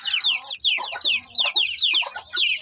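Hens and young chicks in a backyard coop, several birds clucking and chirping in quick overlapping bursts, close and fairly loud, with high peeping calls repeating in short phrases.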